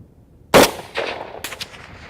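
Egyptian Hakim rifle fired outdoors at long range, one sharp loud crack followed by a rolling echo and a fainter later report, no voices.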